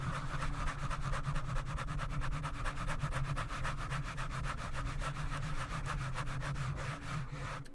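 ASMR scratching made of close, fast, rhythmic strokes. The raspy, even scratches run continuously at low volume with no voice over them.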